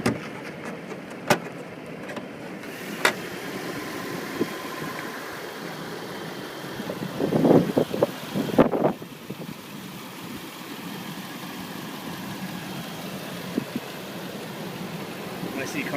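A 2008 Land Rover LR3 HSE with a 4.4 liter V8 idling, a steady mid-pitched engine hum heard close with a few sharp clicks and clunks, and a short louder stretch partway through.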